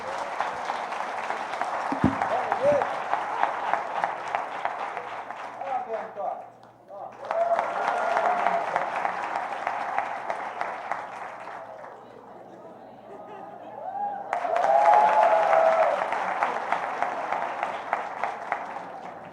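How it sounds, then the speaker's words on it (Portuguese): Church congregation applauding during a Sunday celebration service, three sustained waves of clapping with short lulls between, loud and close, with some cheering and voices mixed in. "Vamos aplaudir Jesus?"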